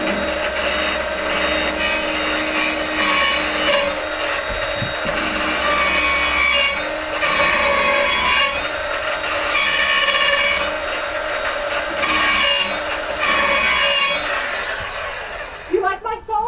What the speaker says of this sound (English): You like my saw?